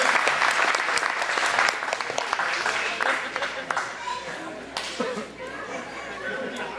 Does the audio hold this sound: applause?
yes